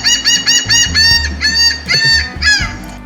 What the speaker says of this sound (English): Did that seagull just mock me?